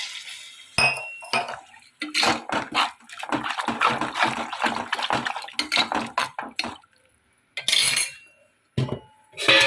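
Water is added to radish sambar in a pot, with bursts of splashing and metallic clinks from the cookware, broken by short silent pauses.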